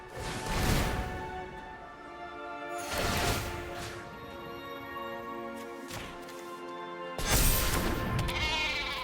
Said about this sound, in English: Play another sheep.